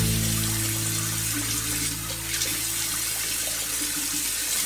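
Tap water runs steadily into a sink while a face is rinsed clean of a gold collagen sheet mask residue, a continuous close splashing stream with a low hum beneath and no talking.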